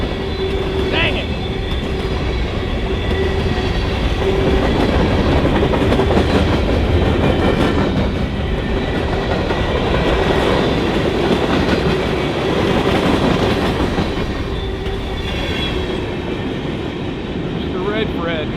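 A Norfolk Southern freight train dragging equipment rolls steadily past nearby, its wheels clicking and clacking over rail joints in a loud, continuous rumble that lasts the whole stretch.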